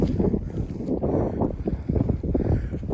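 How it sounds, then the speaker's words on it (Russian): Gusty wind rumbles against the microphone in uneven, low buffeting pulses for a few seconds at a clifftop field, with nothing else clearly audible. "Ветер начался."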